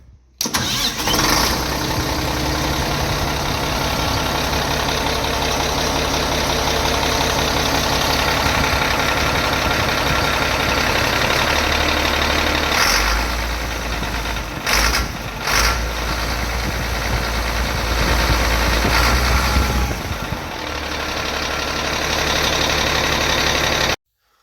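Caterpillar 637 scraper's starter cranks its diesel engine, which catches and runs at a rough, knocking idle, loud and close, with brief dips and surges in the engine note partway through and no talk.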